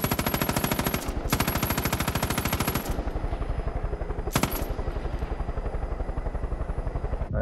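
Rapid automatic gunfire in Far Cry 5, loud and close, in long sustained bursts with brief pauses near the start and middle, over a constant rumbling engine-like drone.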